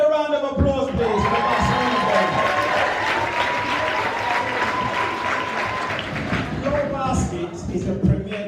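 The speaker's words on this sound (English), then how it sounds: "Another round of applause, please, for the Barcelona boys." An audience at a youth football club's end-of-season award ceremony applauds the under-16 Barcelona tournament team, a sustained roll of clapping with some cheering and thuds, while a voice and what sounds like music carry over it early and late.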